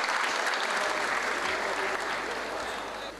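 Audience applause at an album launch event fills the space as a loud, sustained crowd clapping that slowly tapers off toward the end.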